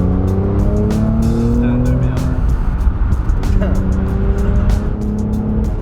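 A Mercedes C43 AMG accelerates hard onto a motorway, its engine note climbing through rising revs with tire squeal, loud and close, while people talk inside the car.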